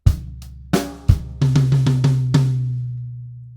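A drum groove opens with kick and snare hits, then a rapid run of high tom strokes rings out, close and clear with no talking.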